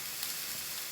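A pan of fish masala with tomato gives a brief, soft, steady sizzle while it sautés.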